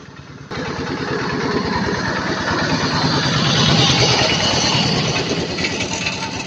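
Diesel engine of a road paving (asphalt) machine running steadily close by on a village road, a continuous low rumbling drone that starts abruptly and holds at an even, loud level throughout.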